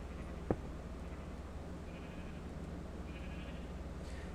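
A sheep bleats faintly in a Minecraft-style blocky video game, a couple of soft distant calls over a steady low background hum, with no talking.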